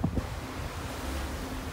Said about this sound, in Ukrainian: Ну і вітряно теж.